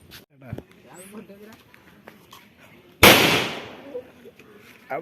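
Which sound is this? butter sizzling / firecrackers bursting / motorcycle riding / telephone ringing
firecrackers bursting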